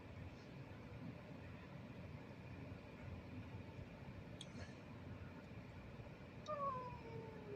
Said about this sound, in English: You're always whining. Leave these other cats alone.